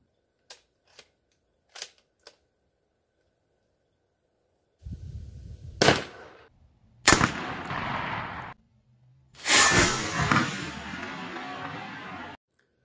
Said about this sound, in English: We have a 123 grain full metal jacket, and let's see what kind of damage it'll do to the steel rotor.